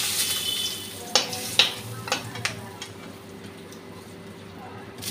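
Dry chillies, cardamom and cinnamon frying in hot oil in a pan, a continuous close sizzle punctuated by several sharp clicks and taps of stirring, a faint voice underneath.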